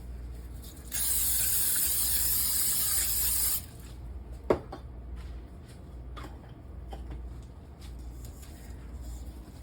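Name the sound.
cooking spray on loaf pan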